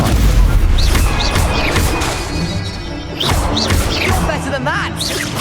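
Stupefy spell blasts go off in Hogwarts Legacy, loud booming and crashing impacts layered with whooshing, shrieking effects in dense, repeated bursts.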